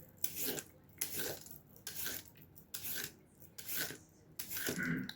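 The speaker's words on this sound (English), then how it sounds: "I like peeling carrots." Hand-peeling a large carrot for dinner, a series of quick rasping scrapes in a steady rhythm, about six strokes, close and clear with no talking.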